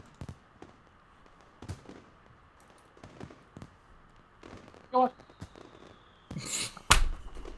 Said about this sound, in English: Sparking tracers arc upwards, ready to explode in the floral shapes of fireworks.